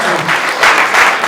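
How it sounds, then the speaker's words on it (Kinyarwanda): A church congregation breaks into steady, loud applause at a wedding celebration, a dense wash of many hands clapping throughout without a break. "reka amashyi ku Mana yacu"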